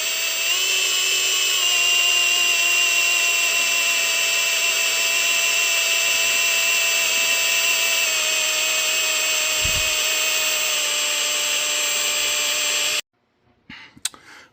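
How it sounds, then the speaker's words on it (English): A power drill with a sharp left-handed bit bores through a stuck bolt on a combine, giving a steady, loud, high mechanical whine for about thirteen seconds before cutting off, followed by a few faint clatters. "we were able to drill all the way through that bolt"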